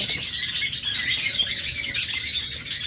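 Pet lovebirds and budgerigars kept for sale chatter and squawk in a dense, continuous flock of overlapping high chirps, loud and close, with no talk.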